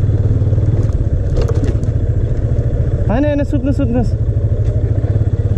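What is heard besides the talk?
motorcycle riding on a rough road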